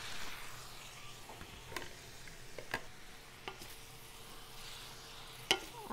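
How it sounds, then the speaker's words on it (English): Small shrimp sautéing in butter, olive oil and seasonings in a pan, a quiet steady sizzle with a few faint sharp clicks of utensils, no talking. "I'm gonna put in our shrimp, get these sauteed in that yummy butter and olive oil and all these seasoning"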